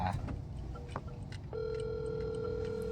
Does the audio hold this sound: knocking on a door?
no